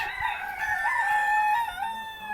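A rooster in a poultry enclosure at Tarsus zoo crows loudly and close by, one long drawn-out call that rises and then trails off, with no talk over it.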